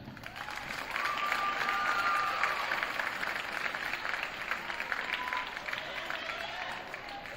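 Sustained applause from an audience at a high school winter sports awards ceremony, honoring MVP winners; steady clapping with some crowd noise and faint talk underneath, swelling early and holding fairly loud throughout.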